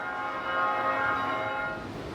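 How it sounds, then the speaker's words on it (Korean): Church bells ringing at Daeheung-dong Cathedral in Daejeon, a sustained, resonant metallic ringing with a steady hum of overtones, heard outdoors at a moderate distance with no talk over it. "종소리가 들려요"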